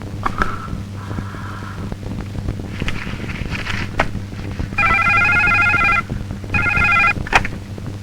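A telephone rings in several electronic bursts, the last two loud and sustained, with brief gaps between rings and no talking.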